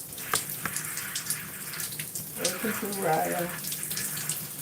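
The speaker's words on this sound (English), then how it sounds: "Making sure to rinse out all the conditioner." Water runs steadily while conditioner is rinsed out of curly hair during a wash-and-go routine, a close continuous splashing gush with brief soft speech over it.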